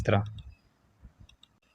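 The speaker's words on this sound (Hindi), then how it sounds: "आपने जो है इस तरह से एक एक वीडियो पे क्लिक करते जाना है" Mouse clicks on a computer while selecting videos one by one, a few sharp, faint clicks spaced out after a brief burst of a voice at the start.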